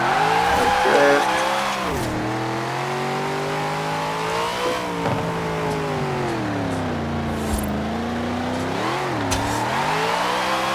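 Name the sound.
car drifting with tire squeal in Forza Horizon 4 video game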